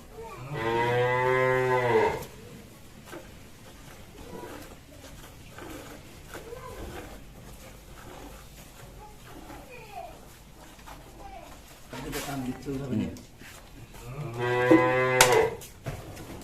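A cow moos loudly nearby on a farm at milking time while her calf feeds, two long lowing calls at the start and end, with quiet voices and farm sounds in between.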